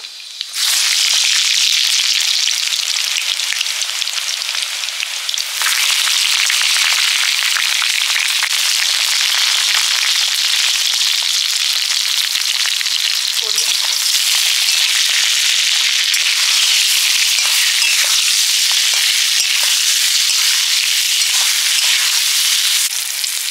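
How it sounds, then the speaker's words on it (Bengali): Eggplant pieces with potato fry in hot oil, a loud steady sizzle and crackle running continuously with no voices. "আলু দিয়ে বেগুনগুলো আগে ভেজে নেব।"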